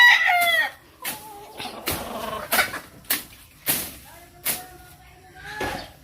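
A rooster in Batangas crows several times in separate bursts, fairly close, with clucking and faint voices of people nearby between calls.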